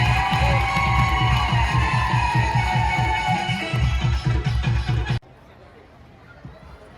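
At a pilgrimage gathering, a crowd claps rhythmically while high wavering ululation rises above the applause and cheering, all cutting off abruptly near the end and leaving quiet room noise.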